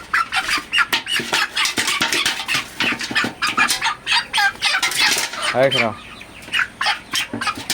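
A Sonali super hybrid chicken clucks and squawks loudly and close while being weighed, in repeated agitated bursts and a rising call, with a person speaking intermittently alongside.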